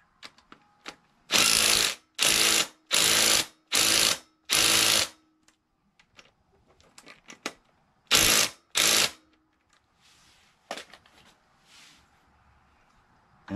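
Ratchet wrench tightening bolts on a Briggs & Stratton 406777 20 HP V-twin engine: several bursts of fast clicking, close up in a quiet space, followed by scattered small metallic taps.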